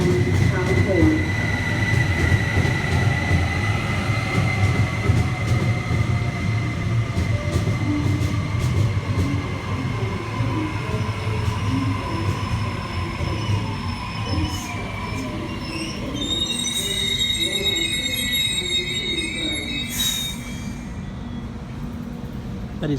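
A Sydney Waratah A3 electric train runs at an underground airport station platform, a steady loud rumble with rail and wheel noise, then high squealing tones and brakes as it moves along the platform.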